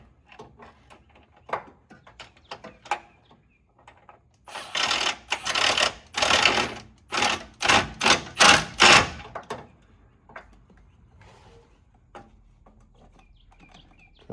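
Bolts being tightened with a ratchet while shocks are installed in a home garage: a fast burst of sharp clicking strokes with short pauses, fairly close, then sparse quieter clanks of tools.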